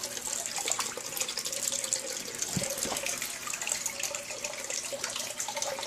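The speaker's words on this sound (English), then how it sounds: "Just gonna splash a little water, wash it back down in." Water splashes into a gold pan of paydirt to wash material back down, giving a continuous close trickling and splashing with a couple of soft knocks.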